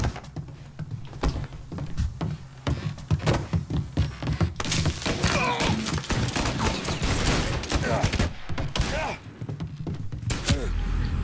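Rapid video-game gunfire in Mafia Definitive Edition, dense bursts of shots with thuds and impacts crowding each other over several seconds, loud and continuous, with a voice speaking over parts of it.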